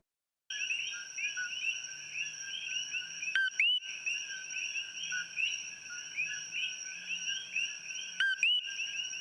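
Loud frogs croaking very close by, a dense continuous chorus of pulsing, rattling calls with a couple of sharp louder notes standing out, no talk.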